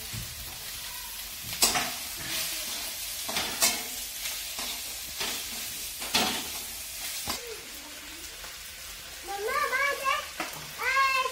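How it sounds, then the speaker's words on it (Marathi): Onions and spring onion greens sizzling in a pan, with repeated scraping stir strokes and bursts of sizzle close by, while a voice and adult chatter sound faintly in the background. "कांद्याची पात पण चांगली परतून घ्यायची आहे"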